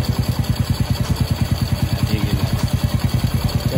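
A Honda Wave 100 motorcycle fitted with a clutch conversion kit runs steadily close by, its single-cylinder engine pulsing in an even, rapid throb with a mechanical clatter, alone with no talk.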